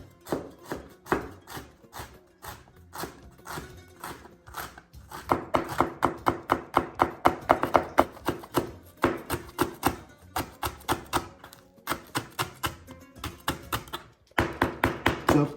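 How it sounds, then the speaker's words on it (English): A knife chops ginger and garlic on a cutting board in steady, rapid knocks, close and crisp, running in long rhythmic runs with brief pauses between them. "So I'm gonna slice the ginger thinly, or like chop the ginger as well, and the garlic, chop the garlic as well."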